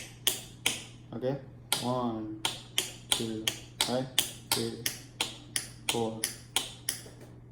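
Korean drum rhythm struck in a steady pattern of sharp, close hits, with a voice counting beats aloud between and over the strikes.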